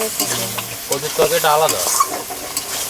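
Katla fish curry with potatoes being sautéed in a pan, a close sizzle with spatula stirring and scraping, while a voice and other household sounds carry over it.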